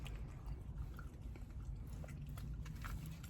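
Crunchy fried chicken being bitten and chewed close up, a run of quiet, dense crackling crunches over low background noise, with no talking.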